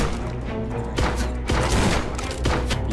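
Rapid gunfire bursts in the Lovecraftian boomer shooter Forgive Me Father 2, a run of loud sharp shots firing in quick succession with heavy low thumps, nearly alone with little talk.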